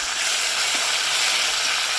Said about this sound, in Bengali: এবার দিয়ে দিচ্ছি টমেটো দেখো সব ভালোভাবে ভাজা হয়ে গেছে